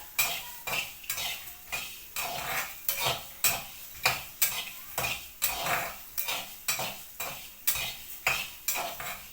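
Ingredients for an Andhra gongura mutton curry roast in a pan while a utensil scrapes and stirs them in steady, rhythmic strokes over a soft sizzle.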